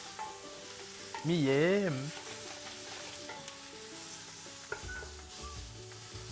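Onions fry gently in a pan for rougail saucisse boucané, a soft steady sizzle with stirring scrapes throughout, while a voice makes a brief drawn-out exclamation partway through.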